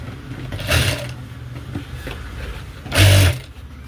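A Jack A2 industrial sewing machine stitches denim jeans. Two short, brisk bursts of close whirring, each under half a second, rise above a low background hum.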